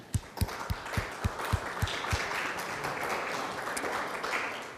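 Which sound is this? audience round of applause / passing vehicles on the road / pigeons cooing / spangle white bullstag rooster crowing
audience round of applause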